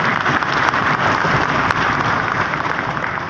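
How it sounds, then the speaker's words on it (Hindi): An audience at a memorial awards ceremony for Dr. APJ Abdul Kalam breaks into dense, loud applause, a continuous wash of many hands clapping that holds steady for a few seconds. "आप सब लोगों से अपील करता हूँ कि कलाम साहब के ताल्लुक से उनकी खराज अकीदत के लिए जोरदार तालियों से इस्तकबाल।"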